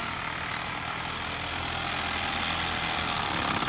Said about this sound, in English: So we grabbed the Sawzall.